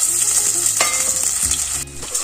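Jackfruit curry frying in a pan with green chilli and potato, stirred with a spoon; steady sizzle with clanking scrapes near and loud, no talk.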